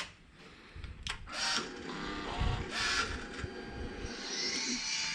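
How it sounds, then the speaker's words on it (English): A car's fuel pump priming makes a mechanical whirring hum that builds and runs for a few seconds, with clicks and short hissy bursts, close by and with no talking. "third time I could hear the fuel pump priming."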